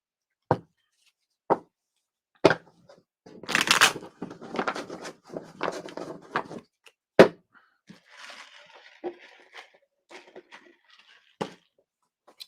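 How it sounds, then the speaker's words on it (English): Crisp bursts of cards being riffled and bridged, a few sharp taps between shuffles, with softer rustling and handling in the quieter stretches. "Three more shuffles."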